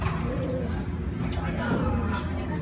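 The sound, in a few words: racing pigeons arriving at loft, cooing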